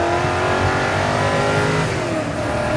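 A Ford GT40's V8 engine revs hard on a raceway, a loud, close, continuous roar with shifting pitch and no voices over it.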